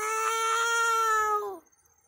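A kitten gives a single loud, drawn-out meow up close, holding steady and then sliding down before cutting off into near silence.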